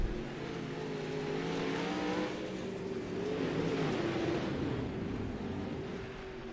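Pro late model race cars roar around the dirt oval at Limaland, engines droning loud and continuous as the pack sweeps through the turns, with no talk over the noise.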